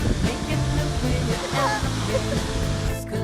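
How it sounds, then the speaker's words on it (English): A waterfall in the Swiss Alps, with freezing cold water, roars in a continuous, dense rushing wash that stays loud and close throughout. "took the cable car down straight to a waterfall where we could enjoy a fresh bath in freezing cold water"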